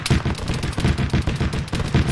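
Rapid, continuous gunfire from the military shooter game Arma 3 in a King of the Hill match, loud dense bursts of automatic weapons crackling without pause throughout.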